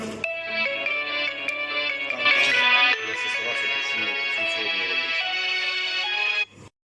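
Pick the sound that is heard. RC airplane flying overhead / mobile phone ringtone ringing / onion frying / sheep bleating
mobile phone ringtone ringing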